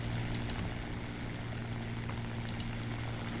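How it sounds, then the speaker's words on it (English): The Rolls-Royce Merlin engine of a Spitfire in War Thunder drones at full power, a steady low, even hum that holds throughout at a soft level with no talk. "Do you hear the purr of the Rolls-Royce Merlin?"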